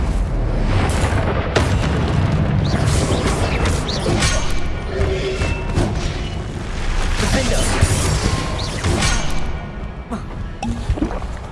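Fire and blast spells cast in Hogwarts Legacy burst in a dense, continuous barrage of booming, crackling explosions, loud and close, with few gaps over the whole stretch.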